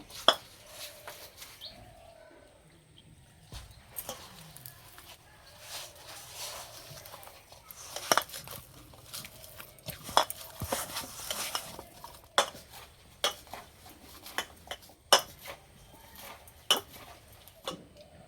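Paratha dough made with chal kumro (ash gourd) being kneaded firmly by hand, giving soft irregular thumps and squishes with scattered sharper taps, fairly close and quiet, no voices.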